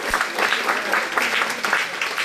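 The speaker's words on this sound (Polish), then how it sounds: "ja poproszę o wielkie, wielkie brawa dla stalowowolskiego środowiska seniorów" An audience at the opening ceremony of a seniors' days event in Stalowa Wola gives a steady, dense round of clapping that fills the whole stretch at even loudness.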